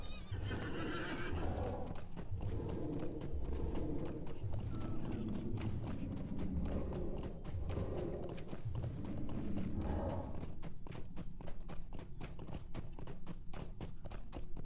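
Hooves of a horse in Lord of the Rings Online pound in a fast, even galloping rhythm, loud and close, with a whinny and layered game music beneath.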